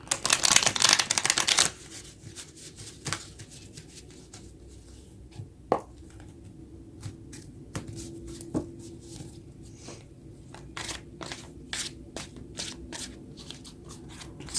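Tarot cards are shuffled briskly with a burst of riffling, then a stretch of quieter taps and shuffles, close and fairly soft.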